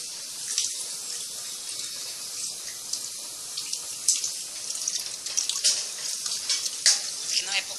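A 10 kg Ltd 11 turbo economy washing machine filling with water, a steady hiss of running water pouring into the drum close by, with faint splashing and occasional brighter gurgles building toward the end.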